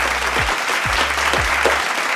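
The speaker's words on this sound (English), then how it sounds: "let's get for a run of applause." Steady applause from a crowd, clapping continuously and fairly loud throughout, with no voices standing out.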